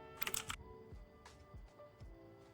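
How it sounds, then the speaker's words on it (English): A quick flurry of keyboard keystrokes followed by a few scattered clicks, faint and close, in an otherwise quiet room. "The keyboard sound and the mouse sound."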